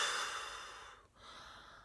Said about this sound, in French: Vous allez souffler en lâchant le ventre et en ouvrant vos doigts.